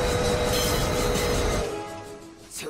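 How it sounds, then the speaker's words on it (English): A toy train runs along its track in a movie scene, giving a loud rumbling clatter with a steady whine that cuts out partway through and fades to a quieter rolling hum. "All right, Jedediah, stop the train, please."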